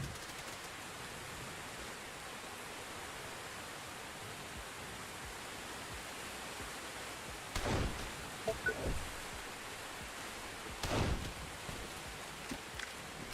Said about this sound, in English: Why is this rain so freaking loud?